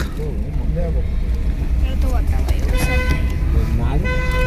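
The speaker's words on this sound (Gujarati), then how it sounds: "સાચરનું ટ્રાફિક" Heavy road traffic near bridge construction in Sachar: constant engine rumble with repeated car and truck horns honking, some short toots and some longer sustained blasts, loud and close.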